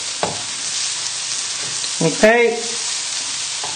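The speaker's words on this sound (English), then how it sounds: "So just give it a nice stir." Mushroom risotto stirred in a hot pan, a soft scraping sizzle running steadily with a few louder spoon knocks, and a brief spoken word partway through.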